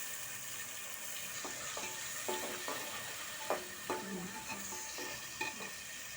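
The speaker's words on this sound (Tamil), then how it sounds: "சிம்மில் வச்சு பச்சை வாசனை போகிற வரைக்கும் வதக்கணும்" Ginger garlic paste sautéing in a pan over low heat while chicken biryani is prepared, a soft steady sizzle with faint stirring scrapes and a few sharper clinks of the spoon against the pan.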